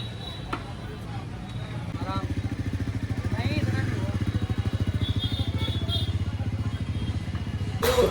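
A Bajaj Pulsar NS400Z motorcycle fitted with Apollo Alpha H1 150 tyres idles, then pulls away on a test ride with a steady, pulsing engine throb, close and fairly loud, while people chat nearby.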